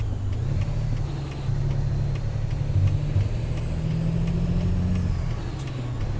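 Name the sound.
truck Jake brake in American Truck Simulator video game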